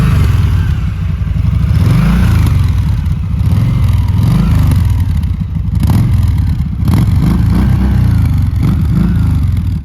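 A Vaquero V-twin motorcycle engine revs loudly and up close, its deep pulsing throb rising and falling in repeated throttle swells with a mechanical clatter underneath, and no voices.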